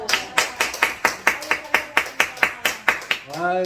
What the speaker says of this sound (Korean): 그냥 박수 한번 쳐야 되겠네